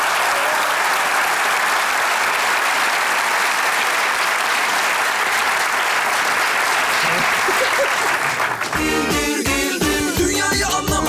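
A comedy show studio audience claps in sustained, dense applause for about eight seconds, and a voice over music takes over at the end.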